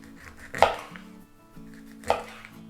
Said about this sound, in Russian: Осталось только нарезать на небольшие кусочки.